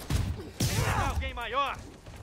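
A burst of gunfire in Marvel's Spider-Man Remastered on PS5: a quick, fairly quiet volley of shots and thuds during a fight, with a voice talking over the game action.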